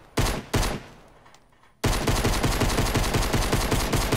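Pistol rapid fire in Fortnite: two sharp single shots, a short pause, then a fast, evenly spaced stream of shots continuing to the end, loud and close with no talking.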